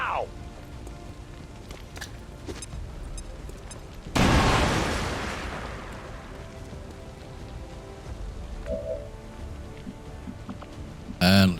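A frag grenade explodes in the XCOM 2 video game, a sudden loud burst that rolls off into a long decaying rumble, followed later by a sharp short pop, all over a steady bed of background game noise.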